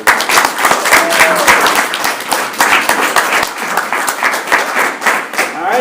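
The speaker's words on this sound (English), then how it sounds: "So one more round of applause for" Audience applause at a student advertising showcase fills a room with dense, steady clapping from many hands, with a voice speaking over it.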